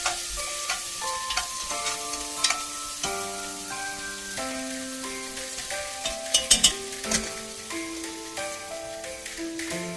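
Seasoned beef short ribs sizzling in a pan as they are stirred, steady frying crackle with scattered clinks and a few sharper pops partway through.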